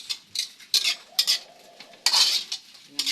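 Vegetables, with turnip (singkamas) just added, stirred in a cooking pot at home, giving repeated scraping and clinking strokes of a utensil against the pot in irregular bursts, fairly close and without talk.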